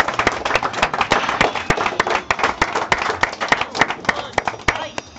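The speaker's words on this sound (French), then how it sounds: "je vous ai explosé les oreilles à clapper des mains devant le micro" Hands clapping close to the microphone during a live fighting-game tournament stream, sharp loud claps in a quick irregular run with crowd applause behind them.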